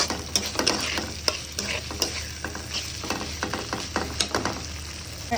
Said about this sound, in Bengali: এবার মিক্স করে কিছুক্ষণ ভেজে নেব একসাথে মশলার সাথে চাল আর আলু